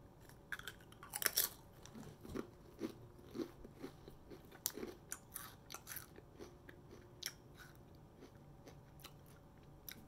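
Crunchy garlic chips being bitten and chewed close up, a steady run of sharp crisp crunches and crackles repeating every half second or so, with no talk.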